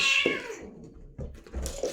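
A cat gives one loud, drawn-out meow close by, followed by quieter shuffling and small thumps indoors.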